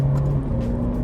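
The engine of a 2023 Alfa Romeo Giulia sport sedan drones steadily from inside the cabin, a low, loud, continuous hum with its pitch shifting slightly as it revs.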